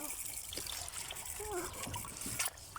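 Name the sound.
water running while washing pechay leaves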